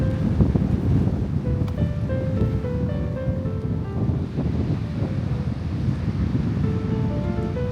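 Steady sea waves wash onto a beach under constant gusty wind buffeting the microphone, a full continuous roar with no talk over it.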